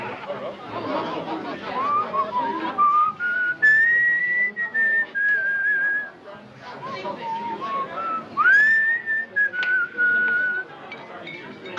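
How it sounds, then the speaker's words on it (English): Someone whistles a melody in long, gliding phrases over a background of chatter and voices, pausing briefly midway before the tune resumes. "Couldn't he pick a better time to do his whistling?"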